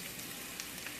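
Salmon and clams sizzle in a frying pan with a steady, faint crackle and soft popping, alone with no voices.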